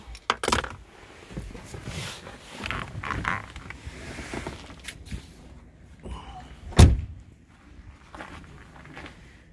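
Car keys jangle and clink as they are pulled from a Vauxhall/Opel/Holden ignition, a scatter of small metallic rattles and creaks with a sharper knock midway, fairly close and quiet with no talk.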